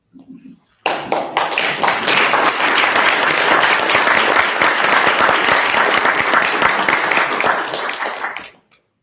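A reading-event audience at a celebration claps long and loud, a thick, even roar of hands that begins abruptly after a brief spoken word, holds for about eight seconds, then tapers off and stops.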